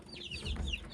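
Aseel chickens and chicks give soft, high clucks and peeps close by in a short burst, with a faint low rumble underneath.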